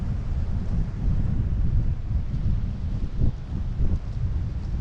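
Strong, cold wind buffeting the microphone on the coast at Loreto, Mexico, a continuous low roaring rumble with gusty surges throughout.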